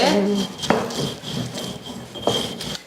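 Dried prawn chutney being ground on a small stone ammi, a steady rough scraping and rubbing of stone on stone with a few sharper knocks, close and continuous, with a voice faintly underneath.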